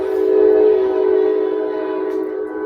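A train horn blares loud and close in a long sustained blast, steady throughout, with a faint rail rumble underneath and no talking.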